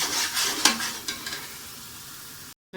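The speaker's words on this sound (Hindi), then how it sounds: "ये देखें अच्छे से आपने भूनना है।" Biryani masala roasting in a pan for chicken biryani, with a soft steady sizzle, a few scraping stirs near the start and a short silent gap near the end.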